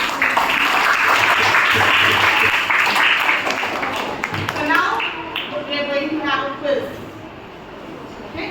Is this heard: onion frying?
no